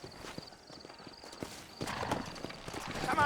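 Horse hooves in the Red Dead Redemption video game clip-clop steadily at a walking pace, the rhythmic hoofbeats growing louder and busier toward the end over a low game ambience.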